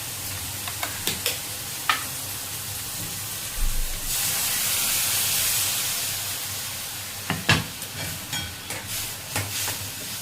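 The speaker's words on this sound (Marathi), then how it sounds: "मेथीची भाजी चांगली परतायची आहे।" Fenugreek leaves stir-fried with a ground spice paste in a pan, a steady sizzle broken by sharp scraping clicks of the spoon, with a louder hissing surge in the middle as the paste hits the hot pan.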